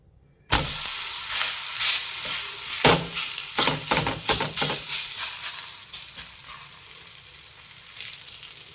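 Ragi finger millet rotti cooking on a hot pan over a medium flame: a sudden loud sizzle bursts in as the dough meets the pan, crackles with scraping sounds, then gradually settles into a softer, steady hiss.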